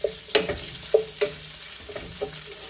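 Bacon fries in a hot pan for kimchi fried rice, a close, continuous sizzle with several distinct crackling pops and spatters spaced through, heard alone with no voices.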